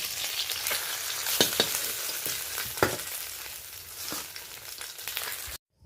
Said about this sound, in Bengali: মাছগুলো বেশ উল্টে পাল্টে ভালো করে ভেজে নিলাম।